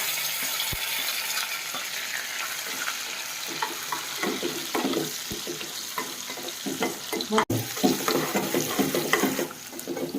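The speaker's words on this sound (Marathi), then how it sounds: "थोडंसं हिंग. फोडणी करूया. मिरची, कांदा, कढीपत्ता." Hot oil sizzles and crackles steadily as asafoetida, chilies, onion and curry leaves fry for a tempering, with clinks and stirring noises from a utensil in the pan.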